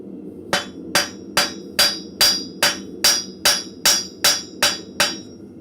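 Blacksmith's hammer striking a pin held in a vise at a forge, about a dozen evenly spaced ringing blows, close and steady.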